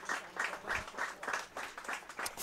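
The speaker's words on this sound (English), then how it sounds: "Round of applause." Audience applause at the IFMAR 1/8 scale IC nitro world championship super pole, a steady patter of clapping from a moderate-sized crowd with rhythmic swells, heard alone.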